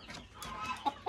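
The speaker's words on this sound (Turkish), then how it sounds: "Bakın tavuklar daha da küçük." Chickens cluck on a farm in a short burst of close, overlapping clucks and soft calls, ending with two sharper, louder notes.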